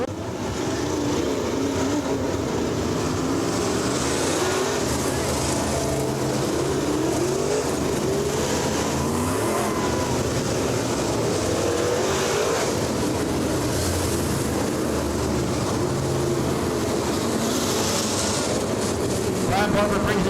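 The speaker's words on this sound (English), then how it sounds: "Vryan Barber brings him down the backstretch, getting ready to see the green flag." Modified race cars circle Lake Cumberland Speedway in Kentucky ahead of the green flag, a constant roar of engines rising and falling as the field moves around the track, with a voice talking over the noise.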